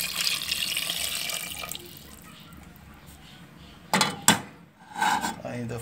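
Warm water is poured from a container over oxtail in a cooking pot, a short splashing gush of a second or so after a stretch of steady background hiss, followed by faint rustling.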